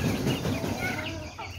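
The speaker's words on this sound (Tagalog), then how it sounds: "Tingnan natin yung mga manok ko." Farm chickens in a backyard flock cluck in a busy, overlapping chorus, close and continuous, with no talk over them.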